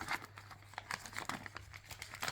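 A children's parcel being unwrapped by hand, with close, busy crinkling and tearing of paper packaging in quick irregular bursts and no talking.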